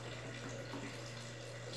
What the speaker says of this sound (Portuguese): Eu vou colocar água aqui ainda. Estão vendo o barulho ali?